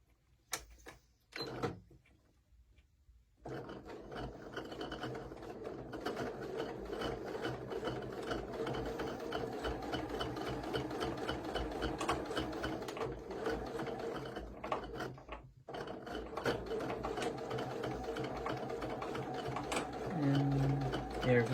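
A sewing machine runs a long continuous seam across cathedral windows quilt blocks, a steady close mechanical whir with a few clicks and brief pauses at the start and partway through.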